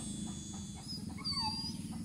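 Close, high-pitched whimpering whines from a versatile hunting dog used for deer and civet, over a steady low background hum.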